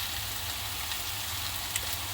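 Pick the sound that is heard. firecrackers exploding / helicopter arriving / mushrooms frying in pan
mushrooms frying in pan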